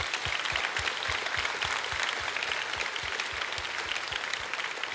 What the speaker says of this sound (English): Give her a big applause again